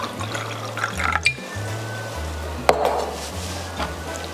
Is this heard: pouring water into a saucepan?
yes